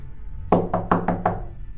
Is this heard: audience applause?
no